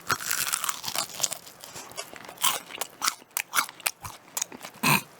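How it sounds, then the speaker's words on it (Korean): Loud crunchy bites and chewing of crispy curry-flavoured Korean fried chicken on the bone, a series of sharp crackling crunches up close, irregular, with no talking. "한번 얼마나 바삭한지 사운드를 측정해 보도록 하겠습니다"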